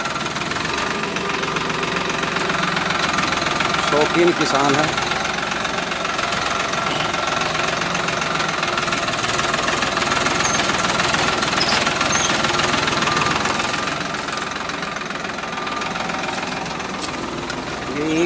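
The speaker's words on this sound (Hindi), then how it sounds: "क्या शानदार आवाज़ है ट्रैक्टर की।" A Farmtrac 60 tractor with power steering, set up with a sugarcane tilling implement, runs steadily nearby with a constant knocking diesel chug and vibration, while someone talks over it.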